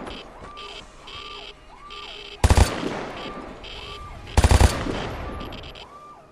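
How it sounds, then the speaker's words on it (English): Two short bursts of rapid gunfire in the video game Vigor, loud and close, over a repeating electronic tone pattern in the background. "I'm gonna pop some shots on this guy."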